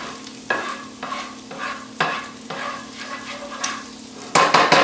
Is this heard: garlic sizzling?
yes